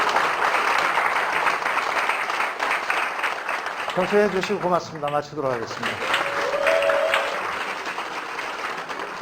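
An audience at an indoor lecture on hydrogen water applauds with steady, sustained clapping through the whole stretch, while someone speaks briefly over it in the middle.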